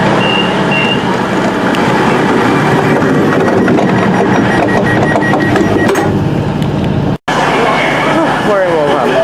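A train passes through Wolverhampton station, its loud, continuous rumble and rail noise filling the platform for about nine seconds, with a brief break near the end and faint voices underneath.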